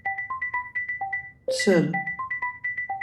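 A mobile phone ringtone plays an incoming call as a repeating electronic melody of short even beeps, loud and close, briefly interrupted by a single spoken word.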